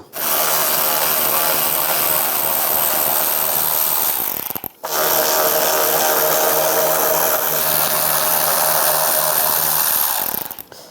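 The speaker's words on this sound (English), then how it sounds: "Now we're going to take these screws out. There's 3 of them. Use a T20 socket." A power ratchet or driver runs on the T20 screws of a 2007-2013 Mini Cooper tail light, a loud continuous mechanical whir for about four seconds, then a brief pause and another sustained run, close by.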